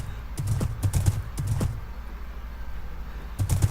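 Horse hooves clip-clop in the Minecraft video game, falling in quick rhythmic bursts of close, moderately loud hoofbeats with short pauses between groups.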